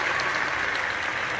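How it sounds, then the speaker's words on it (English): Applause from a small live audience in a kitchen-style room, a brief, steady burst of clapping with no pauses. "round of applause for Victor"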